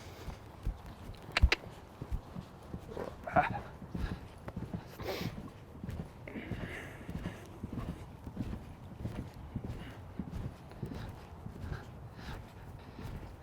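Horse hooves clip-clopping in a steady cantering rhythm over a ground pole during a riding session, close and moderately loud, with occasional faint voice and ambient noise.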